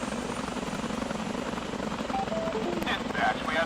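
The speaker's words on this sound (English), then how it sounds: "Oh, we've got a different helicopter already in." A police helicopter hovers in GTA 5 with a British police mod, its rotor thrum steady and droning throughout, with faint radio-like chirps and tones near the end.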